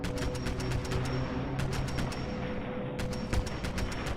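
Modded weapon firing at a shooting range in the game Fallout 4: rapid, evenly spaced bursts of loud gunshots over a steady background hum, with a brief pause midway and no talking.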